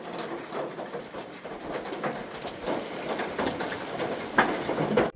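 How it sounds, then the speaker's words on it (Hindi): Hail falling heavily outside in a village at dusk, a dense pattering clatter that runs continuously at moderate level, with a few sharper knocks near the end. "आप इस आवाज से अंदाजा लगा सकते हो कितने ओले गिर रहे होंगे"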